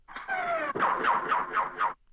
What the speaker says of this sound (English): there's this sound that the cars make in the movie when they jump